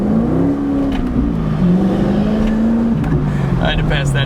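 An LS V8 sports car with a manual transmission accelerates on the highway to pass a truck, its engine drone rising and falling steadily and loud inside the cabin, with someone talking over it.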